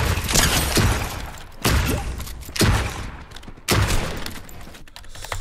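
Loud bursts of shotgun fire from a video game, four heavy blasts about a second apart, each with a noisy tail, fairly close and with no talk over them.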